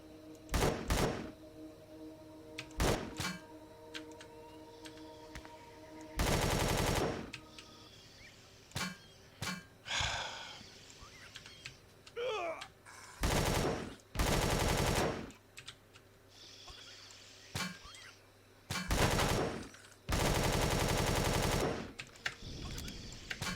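Bursts of automatic gunfire in the sci-fi survival game Empyrion Galactic Survival, several loud sustained volleys with short single shots and pauses between them, alongside game effects.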